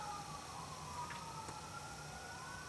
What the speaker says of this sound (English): Sorry if you guys hear like the sirens.